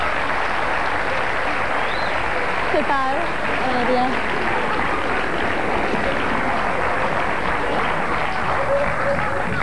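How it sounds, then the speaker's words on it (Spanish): A television studio audience on a 1995 Argentine variety show gives a guest a steady, sustained round of applause lasting several seconds, and a host's voice speaks briefly over it. "Un aplauso,"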